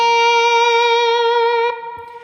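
A single sustained slide guitar note on the first string, bright and steady for well over a second, then a short glide to another pitch and a quick fade, alone and close.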